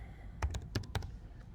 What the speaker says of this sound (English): So I'm simply typing.